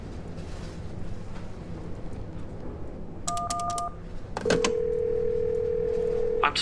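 A phone box in the video game She Could Fly gives a quick burst of dialing beeps, then a brief pause, then a loud, steady telephone tone that holds for about two seconds and cuts off.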